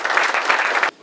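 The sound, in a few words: round of applause for graduates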